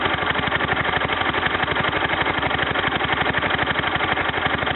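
A Kohler K241 single-cylinder engine with a new head gasket runs steadily after a tune-up, a close, even, rapid thumping idle throughout with no talking.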